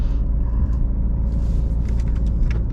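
Steady low road and engine rumble fills the cabin of a 2022 Citroen C5 Aircross while driving, a constant droning hum with faint higher hiss, close and unbroken.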